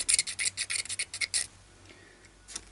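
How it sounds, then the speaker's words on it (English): A blade scrapes the bridge of an electro archtop acoustic guitar in a quick series of close, harsh rasping strokes, about ten in a row. They stop halfway through, leaving near quiet with a faint tick or two. "we could also do it with blade, scraping like this"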